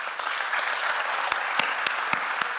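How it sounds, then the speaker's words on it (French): An audience in Morocco applauds a speech by Nicolas Sarkozy, a dense steady clapping texture with a few sharp nearby claps standing out, with no voice over it. "Vraiment, il n'y a pas besoin de m'applaudir pour ça."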